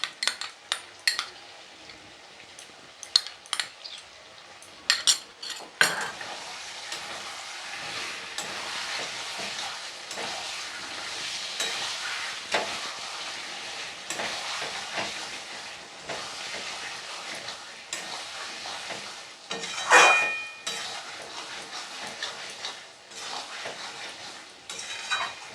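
Mutton kosha being stir-fried in a pan, with steady sizzling and a spoon scraping and clinking against the metal throughout, plus a brief louder burst of sizzle and clatter partway through.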